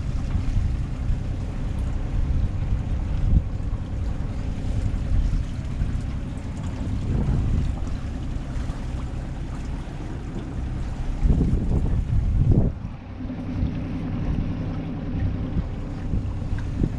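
Strong, gusting wind roars across the microphone on a sailboat cruising in Greece, swelling and easing with low rumbling buffets and faint water movement; no voices.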